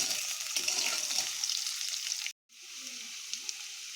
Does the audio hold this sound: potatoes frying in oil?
yes